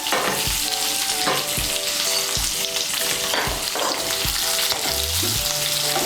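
Capsicum and onion fry in a pan with a steady, loud sizzle, punctuated by repeated metallic scrapes and taps of a utensil stirring close by, without talk.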